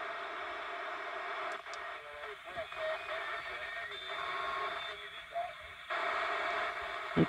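A PNI Escort HP7120 CB radio on receive hisses with steady static, with a weak signal barely audible beneath the noise and small shifts in the hiss throughout.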